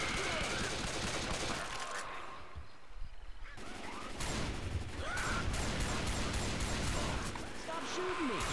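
Sustained, loud gunfire in the Left 4 Dead 2 Swamp Fever versus match: dense, overlapping bursts of rapid shots fill the stretch, with only a brief thinning in the middle.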